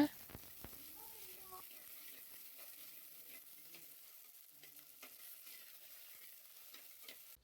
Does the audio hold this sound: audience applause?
no